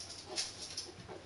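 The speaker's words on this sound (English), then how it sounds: "A new puppy." A puppy whimpers faintly in a few brief, soft high whines over a quiet indoor background.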